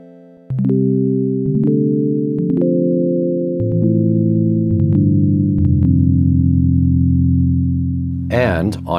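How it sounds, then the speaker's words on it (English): Pure, smooth sine-wave tones from a Waldorf Q digital synthesizer step through a descending run of sustained notes, followed by a brief burst of noise at the end. "Sine wave."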